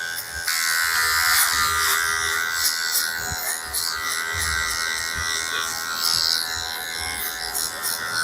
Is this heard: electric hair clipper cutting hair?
yes